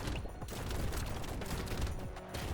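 Rapid, dense shotgun blasts from the Brotato roguelike arena game at danger level 5, overlapping into a continuous crackling barrage with game effects, fairly quiet throughout.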